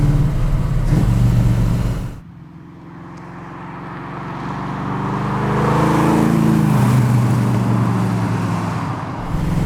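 A Ford GT40 race car is being driven, its engine a loud, close drone that drops back after a shift, then climbs again in a strong rising pull before easing off near the end.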